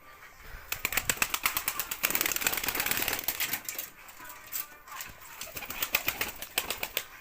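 Tumbler pigeons in a coop: rapid repeated wing claps and flapping in quick bursts, close by, with faint cooing and a voice speaking in the background.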